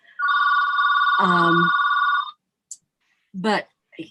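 A mobile phone rings with a steady electronic tone for about two seconds indoors, cut off by a voice, followed by brief further speech.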